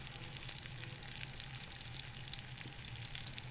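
Stuffed chicken breasts with a cranberry filling sizzle in a hot pan over medium-high heat, a steady, close, dense frying hiss with small crackles, heard alone throughout.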